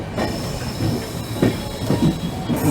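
A passenger train pulls out of Barsoi Junction after a two-minute halt, heard from on board: a steady rumble with rhythmic wheel clatter and faint squeals running continuously at close range, with no talk.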